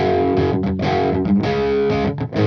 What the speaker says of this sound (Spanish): por último a un sonido distorsionado con el cabezal